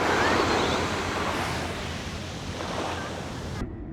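Ocean waves wash ashore at Dhanushkodi, a steady loud roar of surf with wind buffeting the microphone throughout, then cutting off abruptly at the end.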